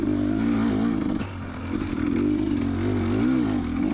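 A dirt bike climbs a rough hillside trail at Prospect OHV's Golden Stairs, its engine close and steady with rising and falling revs and a brief dip in throttle partway through.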